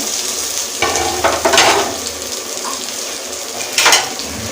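Chicken for Hyderabad biryani stirred in a hot pot, a steady loud sizzle with a few scraping sweeps of the spoon rising through it, no voices.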